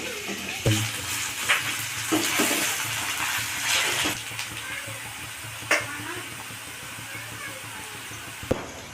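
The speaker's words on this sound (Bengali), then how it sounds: "পেঁয়াজটা একটু লাল করে ভেজে নিই।" Onions sizzle in a pan as they brown, with a steady frying crackle broken by occasional sharp scrapes and clinks of a spoon stirring them.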